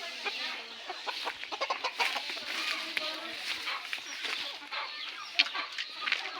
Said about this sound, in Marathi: हे बघा ह्या कोंबड्या बघताय जे वरती भात आहे ते खाण्याचा प्रयत्न करतायत